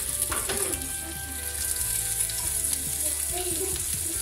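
Shrimp frying in olive oil in a very hot pan, a dense continuous sizzle with small crackles and pops throughout, close and steady, with no voices.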